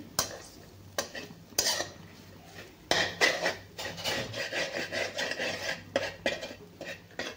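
Grated coconut is stirred and sautéed in oil in a pan, with scraping spoon strokes and clinks against the metal over a soft, faint sizzle.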